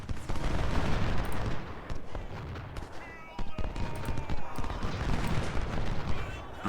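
Musket and artillery fire crackles continuously across a Civil War battlefield, a dense, moderately distant fusillade of overlapping shots and booms with no pause.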